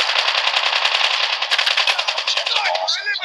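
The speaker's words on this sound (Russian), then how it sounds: "Да, нас стреляют." Rapid automatic gunfire rattles in a Call of Duty match, a dense fast burst of shots that is loud and close, with a voice briefly heard near the end.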